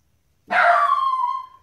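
A single loud, close dog bark rings out sharply, then trails into a drawn-out whining tail and stops.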